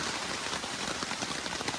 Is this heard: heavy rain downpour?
yes